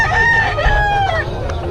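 A rooster crows loudly and close by at a rainy outdoor chicken sale, one long drawn-out call set against steady background crowd murmur.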